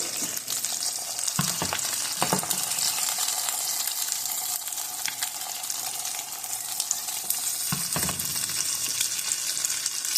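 An egg and Sargento cheese frying in a pan for a breakfast bagel, giving a steady bright hiss throughout with a few brief clunks of utensil handling.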